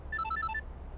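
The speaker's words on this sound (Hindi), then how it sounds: "अरे किसका फोन है?" A phone ringtone plays a short, bright run of electronic tones, clear and close, over a quiet room background.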